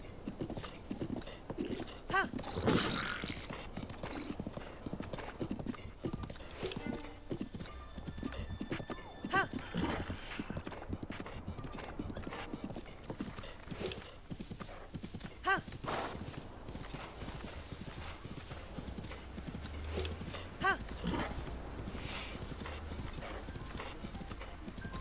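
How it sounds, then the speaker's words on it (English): Horses clip-clop and neigh in the video game Breath of the Wild, with hoofbeats repeating steadily across the whole stretch and whinnies breaking through at moments, all over continuous background game sound and no speech. "More horses, guys!"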